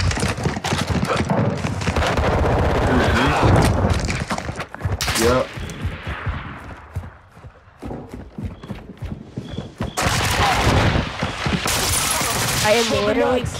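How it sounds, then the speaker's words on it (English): Gunfire erupts across a multiplayer match in Call of Duty Modern Warfare 2, dense bursts of rapid shots and impacts mixed with other loud game noise, at times dropping away, with a voice talking over parts of it. "why are you shooting at me?"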